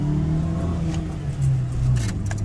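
A Volkswagen Lupo 1.0i three-cylinder engine hums steadily with a low drone that rises slightly in pitch, heard from inside the car with road noise, after decarbonizing.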